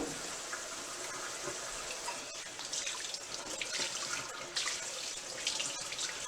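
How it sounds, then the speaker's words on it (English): Hot water runs steadily from a kitchen tap into a sink, a continuous close splashing hiss that swells slightly in the second half, with no talk over it. "Let me get this hot water going."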